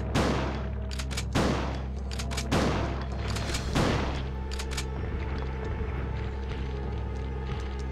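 Gunshots ring out in Resident Evil 2 as a regenerating enemy is shot, several loud booming blasts spaced a second or so apart, each followed by a lingering echo over a low rumbling background.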